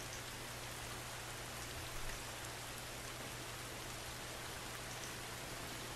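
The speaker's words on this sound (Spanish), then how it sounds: "que se escuche así como cae la lluvia" Steady rain pours down continuously in the video game The Last of Us, a soft even hiss of drops with a low hum beneath, no voices.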